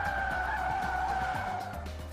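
A front-drive 2010 Cadillac SRX corners hard on a skid pad, its tires squealing in a steady, loud, sustained whine over the low engine rumble.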